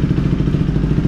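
A 2019 Husqvarna Svartpilen motorcycle exhaust fitted with an aftermarket mid pipe, idling loud and close with a rapid, lumpy low throb.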